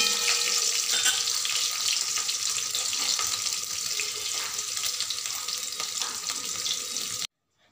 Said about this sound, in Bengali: এবার তেলের মধ্যে কালো জিরা আর কয়েকটা কাঁচা লঙ্কা চিড়ে দিয়ে দিলাম।